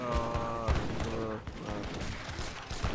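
Organ guns fire in an Age of Empires 3 battle, rapid crackling volleys of gunshots mixed with battle noise, with faint talk underneath.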